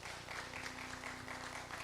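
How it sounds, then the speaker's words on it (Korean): Church congregation clapping during a service, a faint, steady patter of many hands with no talk over it. "특별히 우리 장성만 집사님 기도 참 잘하셨는데 박수 한번 칩시다."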